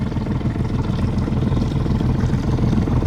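A Crownline bow rider boat with an outboard motor runs past in a harbor canal, a loud, steady low engine rumble and water wash that stays close throughout.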